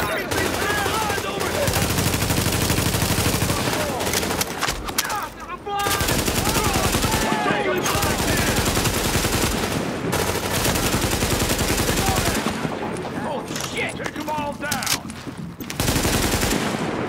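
Video game gunfire in Tom Clancy's The Division: dense, sustained automatic bursts and rapid shots fill the scene, loud and close, broken by a few brief pauses.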